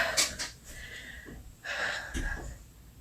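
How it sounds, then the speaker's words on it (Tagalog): Heavy panting from someone who has just climbed stairs: close, breathy gasps and wheezy inhales and exhales in an uneven rhythm. "Hinihingal ako dahil sa pag-akyat sa hagdan."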